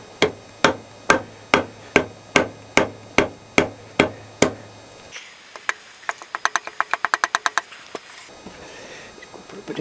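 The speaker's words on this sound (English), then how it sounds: "Let's try the rubber hammer." A rubber hammer strikes the top-end engine parts of a Kawasaki GTR1000 motorcycle, landing about a dozen evenly spaced, loud, close blows, followed by a rapid flurry of lighter taps and a few final knocks.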